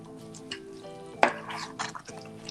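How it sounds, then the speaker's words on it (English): Curried butter beans stirred in a pot, with a soft scraping swirl and one sharp clatter of the spoon against the pot partway through, close and without speech. "And stir that in."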